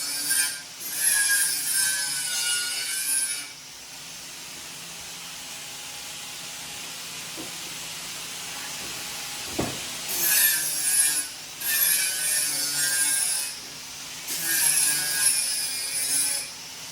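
Harsh bursts of power grinding against metal in a workshop, several seconds each, separated by quieter stretches of hum and a single sharp knock.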